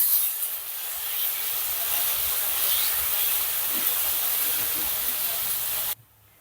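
Ginger garlic paste sizzles with onions in a pan, a steady broadband hiss close up that holds evenly for about six seconds before cutting off.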